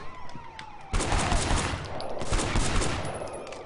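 Heavy gunfire erupts in the video game Sleeping Dogs, a sustained barrage of close, loud shots after a quieter start, with a siren-like tone in the background.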